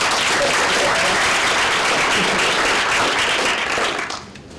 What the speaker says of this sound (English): So clap for Pat